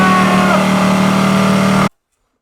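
A saw cuts a piece of wood in half for a homemade shelf, a loud, dense, continuous buzzing cut close by that stops abruptly into silence.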